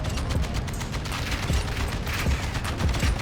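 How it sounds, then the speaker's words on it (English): Steady rapid gunfire from a Modern Warfare 2 multiplayer match, dense overlapping shots with clattering mechanical weapon noise running continuously at a fairly loud level throughout. "they're shooting at us"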